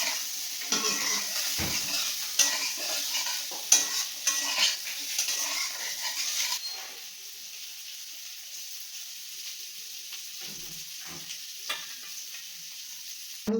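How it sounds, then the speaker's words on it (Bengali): Potatoes frying in oil with turmeric in a pan for egg curry: a steady sizzle with stirring and light utensil clinks, louder for the first half, then settling into a quieter sizzle with occasional scrapes. "আলু দুটো ভেজে নিই।"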